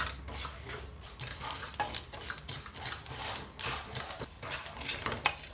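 Black cumin seeds dry-roast in a pan, crackling and popping while a spoon scrapes and stirs in a quick uneven rhythm, close and fairly quiet, with no voices.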